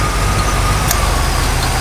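A 1970 Dodge Challenger R/T with a rough cam idles nearby, a steady low lumpy rumble that holds even throughout, with a brief faint high tick partway in.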